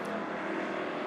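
Race cars roaring around the Monett Motor Speedway oval during feature racing, a steady dense engine drone close and loud throughout the short moment, with no clear voices.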